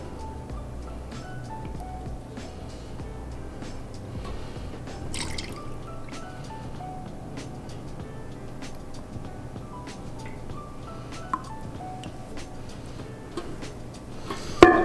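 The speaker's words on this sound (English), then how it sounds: "we're gonna pour this one." Melted A05 Cocosoy candle wax, a coconut-soy blend with added oil, is poured into a glass container. It makes a soft, close trickle with faint drips over a low background, ending in a short louder clatter.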